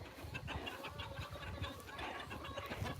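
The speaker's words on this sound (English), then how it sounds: "I'm gonna let these chickens out and let them run around" Several chickens cluck steadily and murmur close by in a yard after being let out of their pen, with a busy, overlapping stream of soft calls throughout.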